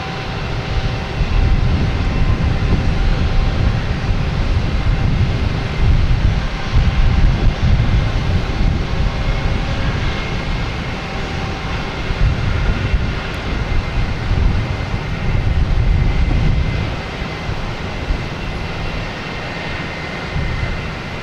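Jet airplane engines roar continuously at Boston Logan Airport, a loud, steady low rumble with a broad hiss that swells and eases slightly over twenty seconds, heard alone without talk.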